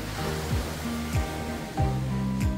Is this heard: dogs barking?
no